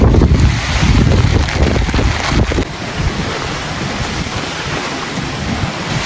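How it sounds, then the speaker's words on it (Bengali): Loud, steady roar of wind and heavy rain in a storm buffeting the microphone in a garden, with a rushing broadband wash that eases slightly after a few seconds. "অনেক অনেক বৃষ্টি ঝড় শুরু হয়েছে"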